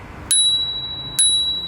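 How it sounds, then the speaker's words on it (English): Bicycle bell on a WQ W4PRO e-bike, rung twice close up, each a bright metallic ding that rings on over quiet background. "Here's the bell."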